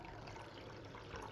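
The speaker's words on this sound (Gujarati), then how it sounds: "હવે એની અંદર પાણી રેડીશું" Water being poured over strained curdled milk held in a cloth, a soft steady liquid trickle and splash running continuously at low level with no talk.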